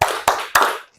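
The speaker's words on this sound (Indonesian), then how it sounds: "Tepuk fokus." A class of children claps a rhythmic focus clap: three sharp, evenly spaced hand claps in quick succession, close and alone.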